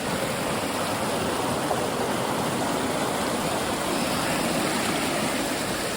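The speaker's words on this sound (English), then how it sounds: "We have an actual river crossing here we got to deal with." River rushing steadily at a trail crossing, swollen by rain, a dense unbroken wash of water noise heard close by.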